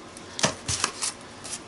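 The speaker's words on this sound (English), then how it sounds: "I'm going to cut this string off." Scissors cut the string off a handmade grab-and-glue journal in a few quick, close, quiet snips and crunches spaced a fraction of a second apart.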